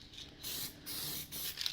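Spray coating being applied inside a panel of a Ford XF Falcon ute, a steady close hiss in several bursts with brief pauses between passes, no talking.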